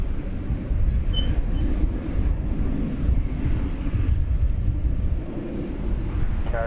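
An American Airlines Boeing 737-800 jet departs at night from DFW Airport, a steady broad engine roar holding loud and constant throughout, with no voices over it.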